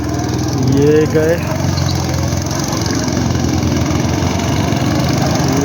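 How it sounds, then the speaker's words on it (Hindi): Go-kart engines buzz steadily at an outdoor adventure park in Nainital, a continuous droning motor noise running throughout while people talk over it. "गो कार्टिंग जो है वो मेन एक्टिविटी है।"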